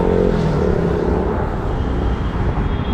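Dense street traffic in India, cars and motorcycles passing close by in a loud continuous engine roar and rumble with no clear gaps.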